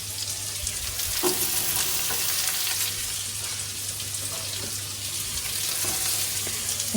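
Sliced onion frying in a hot pan, a steady loud sizzle running throughout, with occasional stirring and scraping sounds on top.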